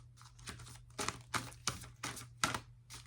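Crisp, papery bursts of large oracle cards being shuffled, about eight quick riffles in an uneven rhythm, close and fairly quiet, with no voices.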